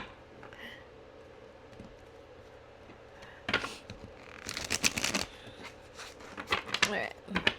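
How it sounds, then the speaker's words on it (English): Tarot cards being shuffled by hand, with a quiet stretch before bursts of riffling and flicking cards arrive in quick clusters up close. "That was a messy shuffle, so I'm going to do it one more time."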